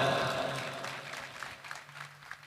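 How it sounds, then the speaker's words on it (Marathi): An audience claps for two performers at a gathering, loud dense applause at first that thins into scattered individual claps as it fades. "त्या दोघांसाठी जोरात टाळ्या वाजवा"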